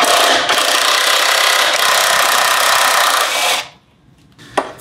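A power tool whirs loudly and continuously while loosening the anti-roll bar bolts on the removed rear axle of an Audi A3, then cuts off abruptly, leaving near silence and a single sharp knock close by.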